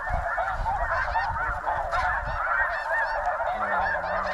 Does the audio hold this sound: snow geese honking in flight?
yes